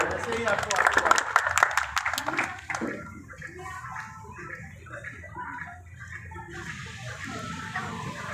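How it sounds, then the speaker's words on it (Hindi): A burst of crowd applause at a village council Republic Day event fades after a couple of seconds, followed by people talking over a murmuring room. "ताली भी आप लोग बजाइए।"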